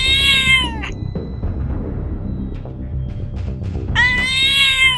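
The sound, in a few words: cat meowing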